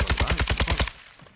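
Rapid automatic gunfire in a team-based online shooter game, a tight burst of about eight evenly spaced shots close and loud, cutting off sharply into quiet.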